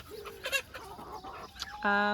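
Chickens cluck in short bursts close by, ending with a sustained, sharp squawk; faint background activity throughout.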